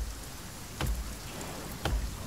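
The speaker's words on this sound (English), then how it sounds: "Oh, it is raining outside." Rain falls in the survival video game The Forest as a soft, continuous hiss, with two brief louder thumps cutting through the steady patter.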